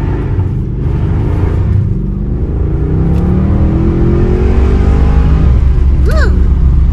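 A Mercedes W204 C63 V8 engine pulls hard in sport mode, a loud steady rumble building and rising in pitch over about seven seconds, with a brief tonal whine near the end.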